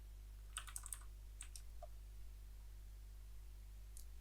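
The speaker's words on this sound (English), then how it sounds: "just type it in." Username being typed on a computer keyboard, a short quick run of soft key clicks followed by a few isolated taps, faint against a steady low hum.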